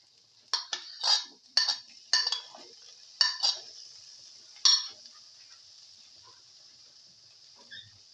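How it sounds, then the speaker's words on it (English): Tomato pieces stirred in a pan, heard as a string of close, clattering scrapes and knocks of a utensil, about seven bursts in the first five seconds before things go nearly quiet, with no talking. "Mix the tomato pieces thoroughly"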